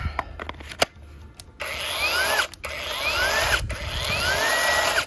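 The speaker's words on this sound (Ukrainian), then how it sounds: "Зараз давайте подивимося, чи працює наша пилка." A few clicks and brief buzzes, then a Procraft brushless electric pole saw whirs up and runs steadily with a high whine, briefly stopping and restarting.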